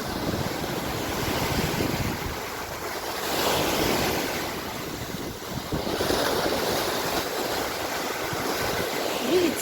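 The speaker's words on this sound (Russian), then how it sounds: "теперь море с волнением, но оно всегда прекрасно" Mediterranean sea waves roll and wash in rough conditions, a broad continuous surf with swelling surges and wind buffeting the microphone, no voices.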